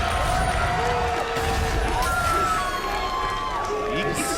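An esports arena crowd at a 2015 League of Legends Korea vs EU all-star match cheers and whoops loudly and steadily, a dense roar of voices with shouts rising above it.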